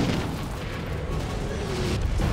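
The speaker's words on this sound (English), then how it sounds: "The Americans fire mortars to try and stop the second wave of tanks." American mortars fire on advancing NVA tanks in a Vietnam War battle, heard as a dense, continuous rumble of heavy booms and blasts that stays loud throughout.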